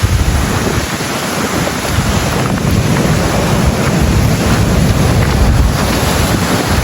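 Strong ocean waves surge and crash, driven by a gusting wind that buffets the microphone. It makes a loud, dense, unbroken roar with no voices over it.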